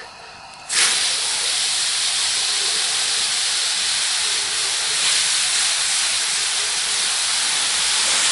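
A loud, steady hiss of sizzling bursts in abruptly after a moment of quieter noise and holds strong and even throughout.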